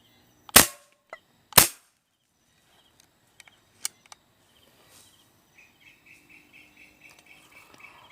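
Two sharp, loud PCP air rifle shots ring out about a second apart, fired at a 20-meter target, followed by faint clicks and ticks and quiet birdsong chirping in the background.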